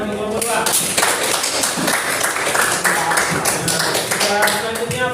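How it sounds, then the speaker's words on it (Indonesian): A classroom of students claps for a presenting group, with uneven individual claps and taps close by, mixed with voices and some chatter throughout. "Tepuk tangan untuk kelompok"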